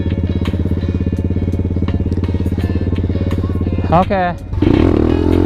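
A pit bike, a Honda Grom, idles with a steady close engine drone, then revs sharply into a wheelie and drops back with a clattering rumble as the foot brake brings it down; a voice speaks briefly near the end.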